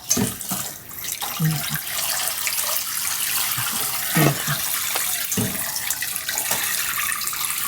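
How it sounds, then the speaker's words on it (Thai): Tap water runs steadily into a sink while banana blossom soaked in salt and lime juice is rinsed, a close, continuous splashing broken by occasional clunks and handling sounds. "หัวปีเราไปล้างก่อนนะคะ เพราะว่า เราแช่เกลือกับน้ำมะนาวไว้นะคะ"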